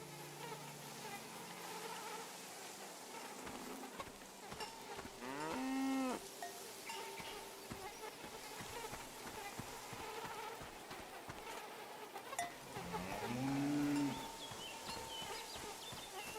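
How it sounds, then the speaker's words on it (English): A cow in the video game Take Pictures & Chill lets out two drawn-out moos several seconds apart, set against a steady bed of buzzing insects and faint rustling ambience. "The sound of this bell has a lot of character."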